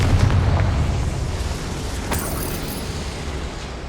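A Confringo spell blast in the Hogwarts Legacy video game, a loud booming burst that rumbles heavily at first and then fades into a sustained low roar, with a faint sharp crackle midway.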